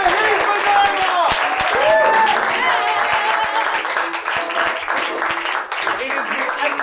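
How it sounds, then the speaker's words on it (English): An audience applauds a puppeteer at a comedy festival puppet show. The clapping is sustained and full, with voices over it at first, and it gradually thins out. "Come on, round of applause to Regis"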